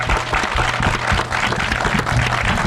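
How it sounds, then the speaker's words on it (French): A cinema audience gathered for a live show applauds, a dense continuous wash of clapping from many hands filling the room, with faint murmurs underneath. "Et on peut les applaudir"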